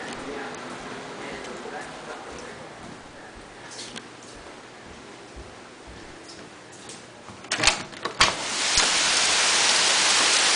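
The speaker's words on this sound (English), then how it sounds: "Take you out and show you the rain." Steady hiss of heavy rain in Connecticut, growing much louder and denser near the end as a downpour opens up, with a couple of sharp bumps just before.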